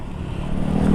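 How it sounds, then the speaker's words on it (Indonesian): A Kawasaki KLX 150 motorcycle engine idles close by, a steady low rumble that swells slightly toward the end, with no voices over it. "Motor lu masih nyala."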